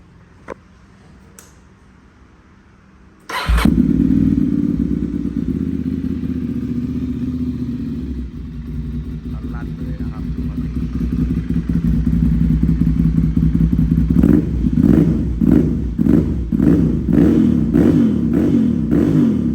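A 2012 Ducati 795 motorcycle with a loud twin exhaust fires up abruptly after a quiet moment, settles into a throbbing, loud idle close by, then blips its revs several times near the end.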